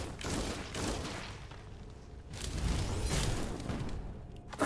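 Heavy attack shots fired in the sci-fi souls-like action RPG Dolmen, a dense run of blasts and whooshing bursts that swell louder near the end, with no talking over them.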